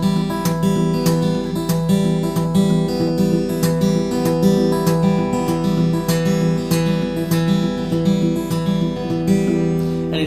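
Palm-muted Travis-picking on guitar, a muted, thumping alternating bass and plucked treble notes in a steady, rolling rhythm, played alone and clearly.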